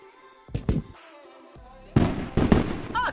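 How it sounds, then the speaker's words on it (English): Fireworks pop and burst in a short sequence, several sharp bangs and crackles close together, loud against a quiet background. "Cool that there were fireworks in Aladdin."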